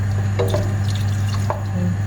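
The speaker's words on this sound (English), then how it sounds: "And then we are going to pour in some water, of course, so that the vegetable cooks." Water is poured into a pot of frozen vegetables for a soup, giving a steady liquid rush over a constant low kitchen hum with a few faint drips and splashes.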